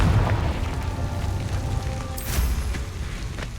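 A booming fiery explosion from the Confringo spell in Hogwarts Legacy, heavy and rumbling at first and then tailing off into crackling debris and a sharp burst.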